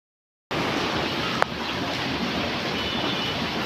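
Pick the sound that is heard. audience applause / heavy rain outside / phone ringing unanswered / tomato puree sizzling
heavy rain outside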